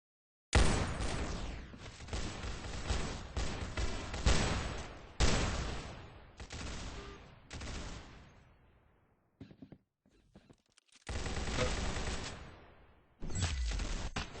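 Gunfire in the Roblox game Arsenal, with loud bursts of rapid shots in several runs separated by short pauses, the firing close and dense without any speech over it.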